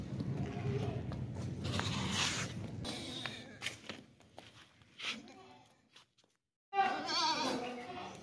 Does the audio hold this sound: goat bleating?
yes